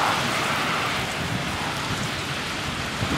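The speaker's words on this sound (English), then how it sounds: "Rain's still coming down." Heavy rain pours steadily during a thunderstorm at a tower site, a dense continuous hiss of falling water with low rumbling thunder underneath, loud and close throughout.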